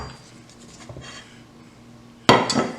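A grilled New York strip steak is lifted off a plate, giving one sudden, close clatter of plate and utensil after a quiet stretch, with brief scraping following it.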